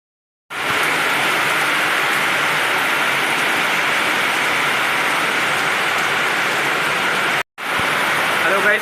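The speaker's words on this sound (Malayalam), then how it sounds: "ഇപ്പോൾ മഴ പെയ്തുകൊണ്ടിരിക്കുകയാണ്." Heavy rain pours down as a dense, loud, continuous hiss that stops abruptly for a moment near the end, then resumes just as strongly.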